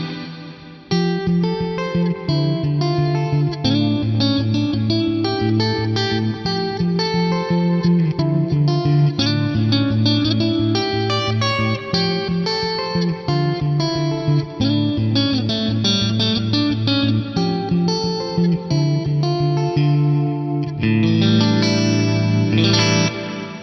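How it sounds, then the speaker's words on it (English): Guitar played through an Axe-Fx III with a chorus hall reverb, chiming chords and arpeggios shimmering with modulation and a lush reverb tail, loud and continuous with no talking. "And then if I add that chorus hall reverb,"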